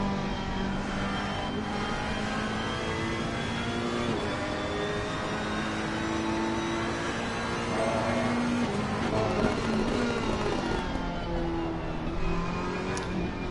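Several Ferrari race cars in sim racing on the Catalunya circuit, engines droning loudly and continuously with steady high-pitched whine and shifting revs as they battle into a right-hander, no voices over it.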